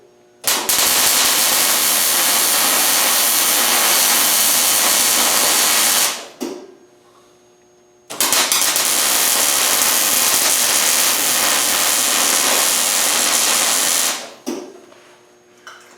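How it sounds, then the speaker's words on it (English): Two long bursts of welding crackle, each about six seconds of loud, steady buzzing spatter ending abruptly, as acorns are welded onto a small forged oak branch, with quiet gaps between. "Now when I weld those, I try to get them to blend in as I weld them."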